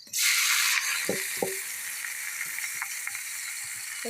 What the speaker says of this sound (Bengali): নাড়াচাড়া দিয়ে শাকটা একটু ভাজা ভাজা করে পরে নামায় নেব